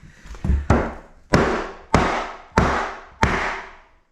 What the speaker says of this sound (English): Keep tapping.